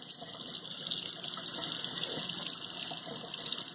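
Tap water running steadily into a sink while rinsing decapsulated brine shrimp eggs, a constant close hiss and splash with no talk.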